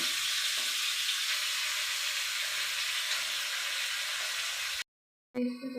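Chicken frying in spiced tempering oil seasoned with salt and turmeric, giving a steady, dense sizzle for about five seconds before it cuts off abruptly and a brief different sound follows.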